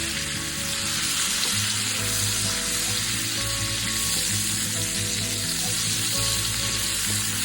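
Onion sizzling in hot oil in a pan, a steady loud crackling hiss that fills the whole stretch with no talking, a low hum running underneath.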